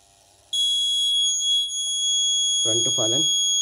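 An Arduino fall detection system with an ADXL335 accelerometer and LCD module sounds a loud, steady, high-pitched electronic alarm tone that starts abruptly and holds throughout, with a brief voice heard beneath it near the end.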